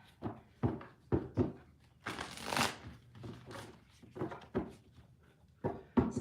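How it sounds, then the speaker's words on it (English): Tarot cards being shuffled, with soft, quiet riffles and taps in an irregular rhythm and a longer rustling burst in the middle, close up and with no speech. "All right, one more shuffle and we'll find out."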